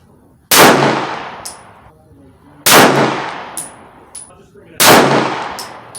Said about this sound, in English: Okay, I'm gonna take 5 shots with customized triggers.